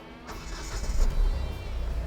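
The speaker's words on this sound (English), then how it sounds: "Start up the engine." A Hyundai Venue diesel engine starts up inside the cabin, a low rumble swelling after the crank and then settling into a steady, fairly muted idle.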